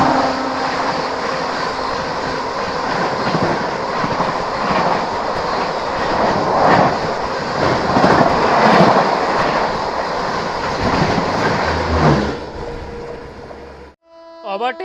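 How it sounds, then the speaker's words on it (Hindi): The Bhubaneswar Tejas Rajdhani express train passes on Indian Railways, a loud, sustained rush of wheels and carriages with clickety-clack rhythm lasting about twelve seconds, then cutting off abruptly. "ये आ गई दोस्तों भुवनेश्वर तेजस राजधानी।"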